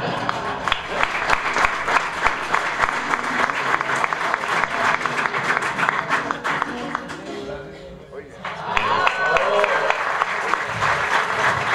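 Audience applause for a music group at an outdoor civic event, sustained clapping from a sizable crowd that runs for several seconds, dips briefly, then swells again with voices mingled in.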